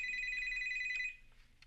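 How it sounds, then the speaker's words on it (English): A telephone rings in a Breaking Bad episode, a bright electronic warble repeating steadily at moderate level, then cutting off abruptly, leaving faint room sound. "There's a phone call."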